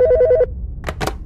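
A telephone rings in a crime drama setting with a short electronic trill of about five rapid pulses, loud and close, followed by a couple of soft thumps or rustles.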